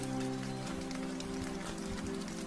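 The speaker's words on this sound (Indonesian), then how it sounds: "Karena hujan yang begitu deras" Heavy rain falls at night in a village, a dense, constant patter of drops spread under a low, steady tonal hum.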